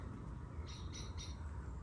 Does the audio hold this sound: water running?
no